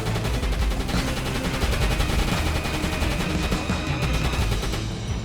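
Anti-aircraft gunfire from a U-boat in the game Uboat shoots down a patrol plane, a loud rapid machine-gun burst that keeps going without a break, close and with no talking.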